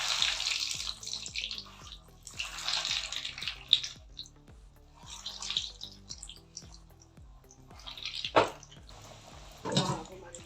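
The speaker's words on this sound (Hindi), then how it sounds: "अब मैं इनको फ्राई करने लगी हूँ। तेल भी हमारा गर्म हो गया।" Chicken and potato kababs sizzle in hot oil in recurring hissing bursts, with someone talking over the frying throughout.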